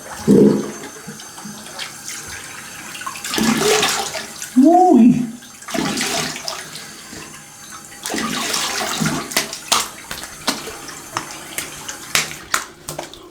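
Cold tap water runs in several broadband gushes during a wet shave at a bathroom sink, starting and stopping in short spells amid handling noises, with brief talk between.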